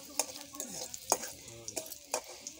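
Chilies frying in a pan on a home kitchen stove, a soft steady sizzle with scattered clinks and scrapes of a stirring spoon against the pan, quiet and close.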